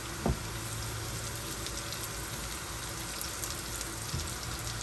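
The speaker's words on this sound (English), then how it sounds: "You want to lightly saute it so it can release its flavor." Ingredients for sweet and sour fish sauté lightly in a pan, giving a steady, even sizzle and frying hiss that carries on for the whole stretch with no talking.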